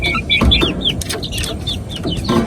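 Young shamo chicken stags, about two months old, clucking and chirping in quick irregular bursts at close range over a low background murmur.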